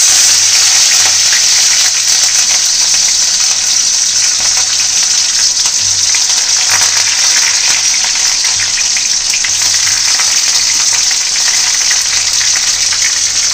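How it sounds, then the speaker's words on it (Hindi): Chopped curry leaves, onion, chili and coriander hit hot oil in a wok, setting off a loud, steady, close sizzle and crackle that holds for the whole stretch with no talking. "तो आगे ही तेल अभी गर्म हो गए तो चलो अब डाल देते हैं।"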